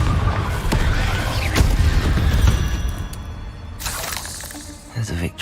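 Confringo fire spell blasts in the Hogwarts Legacy video game, with a string of sharp crackling impacts and shattering bursts in a busy battle, followed by softer magical whooshes and a short thud near the end.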